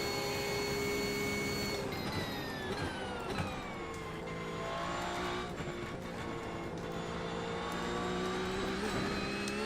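Race car engine pushed hard during Daytona 24 Hours testing, a loud sustained in-car drone with rising and falling pitch through gear changes and acceleration, steady and close throughout with no talking.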